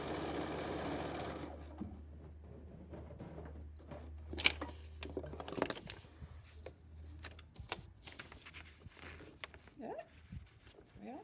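A sewing machine runs in a brief, fast mechanical whir while stitching a paper-pieced quilt block, followed by quieter handling and clicks as someone talks.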